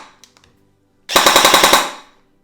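An AEG Scorpion airsoft gun fires a single rapid burst of about a dozen snappy shots, loud and close, after a few faint handling clicks.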